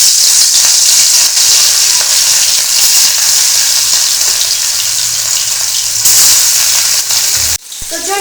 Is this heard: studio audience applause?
no